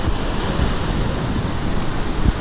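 Surf rolling in at Sawarna Beach, a loud broad wash of breaking waves mixed with gusty wind buffeting the microphone, continuous and close.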